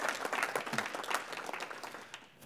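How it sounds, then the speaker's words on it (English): A conference audience gives a short round of applause for the organizers at a lecture on the First World War's Eastern Front, a burst of clapping that fades over a couple of seconds, moderately faint. "in a round of applause for them?"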